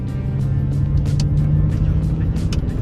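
An Aston Martin DBS engine hums steadily from inside the cabin while driving, not in sport mode, with faint clicks and a voice murmuring over it.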